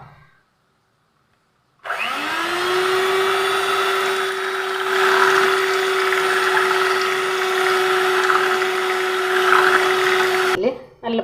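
An electric beater whips eggs in a bowl until frothy, a steady motor whine that starts abruptly, holds loud and even for about nine seconds, then cuts off, with no talking over it.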